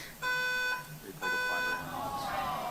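A pulled fire alarm sounds two loud, harmonically rich buzzing blasts, each about half a second long, with a short gap between them, while voices murmur underneath.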